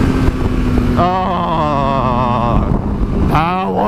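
A 15-year-old motorbike being ridden, its engine droning steadily with wind rush throughout and rising tonal whine as it accelerates, a rider exclaiming over the top.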